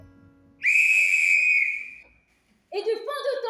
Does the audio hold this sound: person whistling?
yes